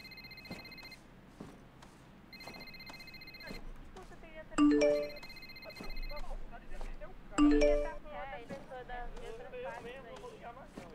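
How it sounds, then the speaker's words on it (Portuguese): Phone ringing inside the GTA RP video game, heard as repeating bursts of ringtone tones that come in groups across the clip, with people talking over it. "Miquel, por que você tá me ligando? Não consigo pegar no telefone"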